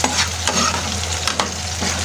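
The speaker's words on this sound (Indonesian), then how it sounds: "kita mau langsung goreng aja dulu si kacangnya ya" Peanuts frying in oil in a pan for an Indonesian moringa-leaf fritter recipe, a continuous close sizzle with occasional stirring scrapes and clatters.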